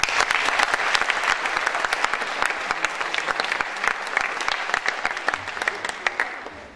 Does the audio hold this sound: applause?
yes